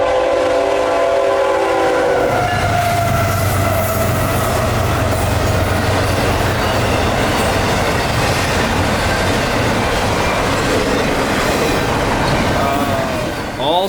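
Hotshot intermodal freight train IO32, single-stack containers and trailers, thunders past a road crossing at close range, a loud sustained rumble and rolling roar with a horn at the start.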